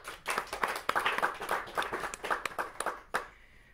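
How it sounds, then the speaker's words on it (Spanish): A studio audience claps during a talk show segment on Marx and Napoleon, brisk close clapping from a small group that tapers off near the end. "Un aplauso, por favor, para Carlitos Marx"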